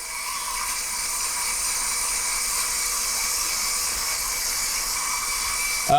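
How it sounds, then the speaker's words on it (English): Meat grinder working a blend of Wagyu fat and lean, a steady high whirring grind that runs unbroken throughout, close and even in level. "you're feeding like a good blend of fat and lean through your grinder"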